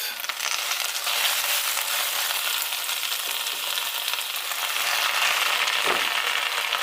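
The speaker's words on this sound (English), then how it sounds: "So we're going to add our leaves and cook them down until they wilt." Swiss chard leaves sizzle and crackle in a hot deep pan, a steady frying hiss with a brief stir or shift near the end.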